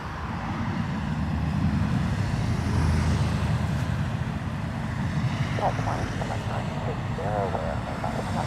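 Bombardier Challenger 650 business jet at Dublin Airport, a steady broad engine roar rising and holding, with faint radio chatter coming through toward the end.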